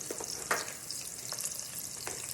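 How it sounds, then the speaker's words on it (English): Corned beef and cabbage stir-fry in a hot pan with peppers, a steady close sizzle broken by a few sharp stirring scrapes and spatters. "let it stir fry a little bit"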